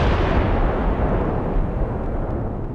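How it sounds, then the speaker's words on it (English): A 350-pound car bomb explodes in a New Mexico test, heard as a loud, sustained, rumbling roar of blast noise that slowly fades over a few seconds. "This explosion in New Mexico was a test to investigate what happens when a car bomb explodes."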